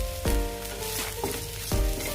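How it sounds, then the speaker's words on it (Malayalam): Ginger, shallots, coconut and curry leaves sizzle steadily in a hot oiled pan, a close crackling fry broken by two louder bursts as ingredients are stirred or added. "നന്നായി ചുവക്കുന്നത് വരെ വറുത്തെടുക്കാം"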